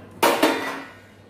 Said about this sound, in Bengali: ঢাকাটা খুলে দেখবো হয়েছে কিনা